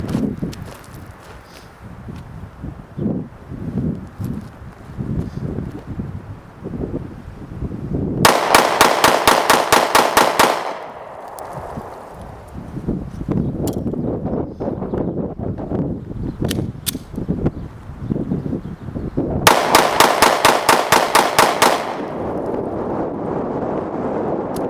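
Two bursts of rapid, closely spaced Sig P365 pistol shots crack out loudly about ten seconds apart, outdoors in cold air, with wind buffeting and rustling in between.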